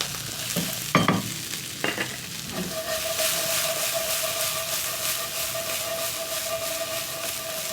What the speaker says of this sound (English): I'm going to be adding in my sausage, which I've cut up into little pieces. Just look at that, and then I'm going to mix everything together.